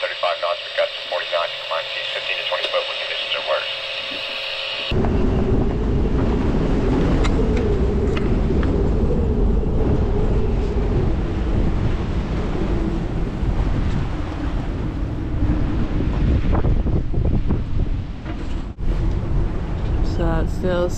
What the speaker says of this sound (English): feels super windy.